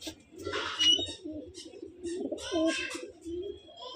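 Malwai pigeons coo in soft, low, throaty rolls, with a few wing flutters and brief rustling bursts close by.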